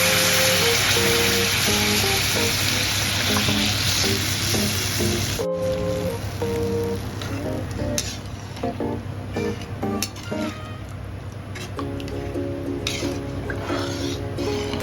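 Caramelized sugar in a pan, hissing and sizzling as water is added for a pineapple chutney, with squishy, bubbling liquid sounds under steady background music that runs throughout.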